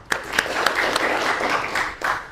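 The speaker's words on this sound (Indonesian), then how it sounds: "Kasih aplaus dulu dong" Audience clapping in a classroom, a short burst of dense applause lasting a couple of seconds with a few sharper individual claps standing out.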